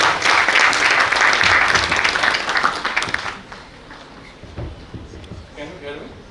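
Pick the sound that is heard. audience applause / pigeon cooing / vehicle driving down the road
audience applause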